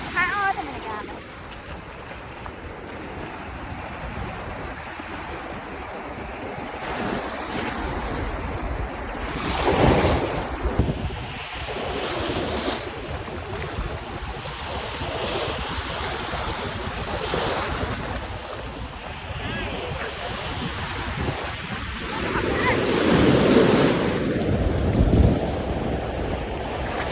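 Sea waves roll onto a beach in Vietnam, surging in broad swells over constant wind buffeting on the microphone, with people talking now and then.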